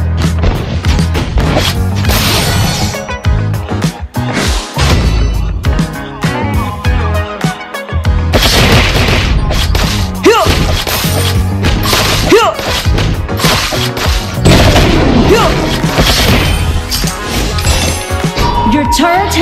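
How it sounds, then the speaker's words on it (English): Honor of Kings turret being destroyed amid a busy mobile battle, with loud repeated crashes, thuds and smashing impacts layered over game effects and music for the whole stretch. "Turret has been destroyed."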